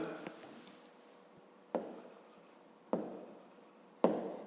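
Pen scratching across paper in a continuous soft scrawl, punctuated by three sharper taps as strokes begin, close and quiet, with no voices.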